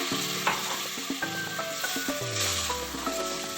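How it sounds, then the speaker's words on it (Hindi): Water hits a hot pan of fish karahi curry, setting off a loud, continuous sizzle and bubbling spatter with a few light scraping clinks from stirring, no voices. "अब हम इसमें 1 गिलास पानी का ऐड करेंगे"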